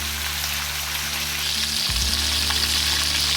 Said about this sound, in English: Let it fry in full flame.